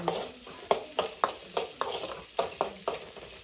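Ginger frying in a pan, sizzling softly while being stirred, with a series of quick scraping strokes at an irregular rhythm, no talk.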